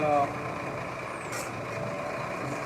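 Heavy work trucks from a river concrete crew roll past at close range, a steady broadband engine and tire rumble with a brief hiss and whine, while a voice talks over the traffic.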